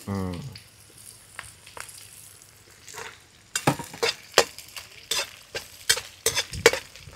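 Two red and two green chillies frying in oil in a pan on a stove, with a low sizzle and a series of sharp spoon-on-pan stirring clinks, and some speech in the background.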